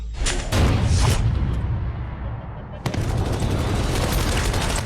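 Heavy gunfire from a surgical-strike scene in the trailer for the 2019 Indian film URI: loud sustained bursts of rapid fire and rumbling blasts, with a sharp crack near the end.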